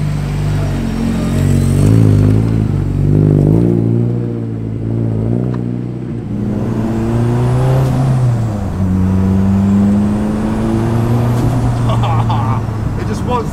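A loud engine of a 540hp rear-wheel-drive Honda Civic build drones and revs steadily throughout, its pitch rising and falling with acceleration and boost, while people talk over it.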